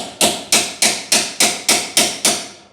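A hammer taps steadily on a mower part during a repair, eight sharp metallic strikes at an even pace of about three per second, each ringing briefly before the next, close and loud with no talking.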